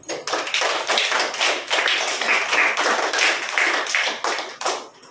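An audience claps together through a Christmas celebration gathering, a dense, steady wash of many hands that sounds close and loud and continues without a break, with no voices above it.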